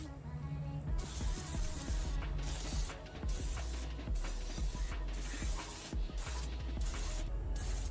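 Engine cleaner sprayed in repeated hissing bursts onto the side of a Mitsubishi 3000GT engine block being soaked for cleaning, with short pauses between sprays.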